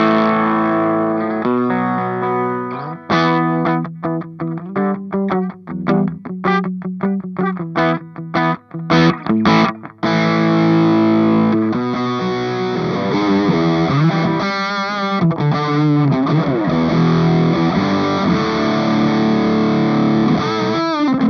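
Electric guitar through a ProCo Deucetone RAT pedal on its Clean RAT setting, played with choppy staccato chords and then sustained, ringing strummed passages, the tone lightly gritty and steady in loudness, with no one talking.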